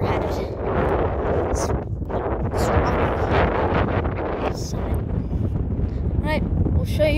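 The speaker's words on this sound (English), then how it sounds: "So it's pretty windy up here" Gusty wind on a mountain summit in New Hampshire's Presidential Range buffets the microphone in loud, rumbling bursts, with a few faint voices and brief clicks mixed in.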